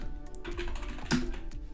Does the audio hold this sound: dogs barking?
no